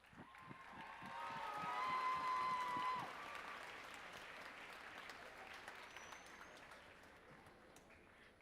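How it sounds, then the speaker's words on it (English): Audience applause for Michael at an Alpha Wolf awards event, a crowd clapping that swells over the first few seconds, then settles into a steady, slightly distant patter that continues to the end. "Let's give Michael one more round of applause."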